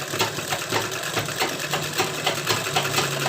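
A sewing machine stitches lace onto a blouse, running in a fast continuous mechanical whir with rapid needle ticks, close and steady throughout.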